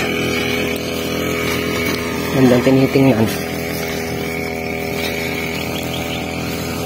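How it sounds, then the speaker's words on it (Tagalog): A grass cutter runs nearby with a steady motor drone throughout, briefly revving louder for a moment near the middle, while a person speaks over it. "Grass cutter siya doon."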